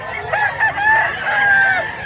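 A gamecock stag crows in a drawn-out, warbling call, close and clear against a faint background of other birds.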